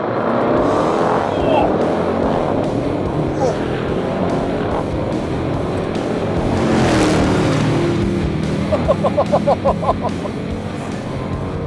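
A Dodge Durango Hellcat, Lamborghini Urus and Jeep Trackhawk in a drag race, engines roaring loudly together and rising in pitch through the gears, with a voice talking over the noise.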